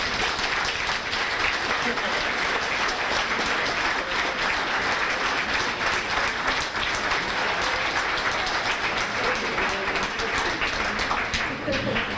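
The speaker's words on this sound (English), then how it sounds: "Dan, give them all a round of applause." An audience at a high school winter sports banquet gives a long, steady round of applause, dense overlapping clapping filling the room at an even loudness throughout, with voices faintly mixed in.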